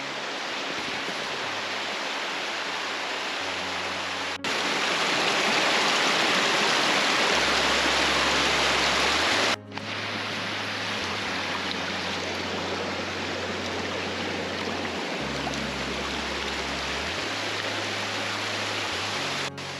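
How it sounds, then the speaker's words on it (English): A steady roar of falling water fills the clip, loud and continuous, with a low engine-like hum shifting underneath. "There are lots of beautiful waterfalls."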